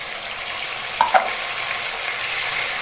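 Steady sizzling of potatoes and ground ginger, cumin, coriander and chilli paste frying in hot oil, with a brief clatter of stirring near the middle.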